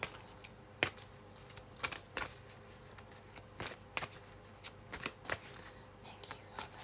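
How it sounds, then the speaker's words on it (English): A deck of tarot cards being shuffled close up: quiet, irregular crisp riffles and flicks in quick bursts, with no one talking. "So we're changing decks. Some cards for the collective."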